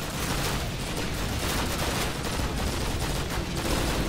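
Dense, continuous automatic fire from a PPSh submachine gun in Call of Duty, mixed with other gunfire in a loud World War II battle.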